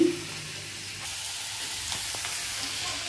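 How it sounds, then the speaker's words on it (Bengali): Bottle gourd fries in a pan with a continuous close hissing sizzle and a few faint clicks near the end. No one speaks. "হচ্ছে লাউ ভাজা"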